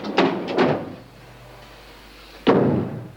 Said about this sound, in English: Ah, Karen, shut the door.